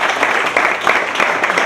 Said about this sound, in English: I just want to give everyone get a round of applause to Anne.